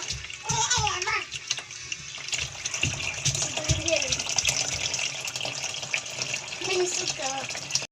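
A weak stream of tap water trickles steadily in a home kitchen during fish soup cooking, with a person talking over the continuous running water.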